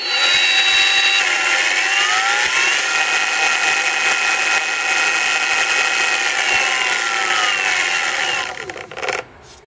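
A Kobalt 6-inch variable-speed cordless random orbital polisher runs at full speed with a loud, steady high-pitched motor whine, holding constant before winding down and stopping at the end.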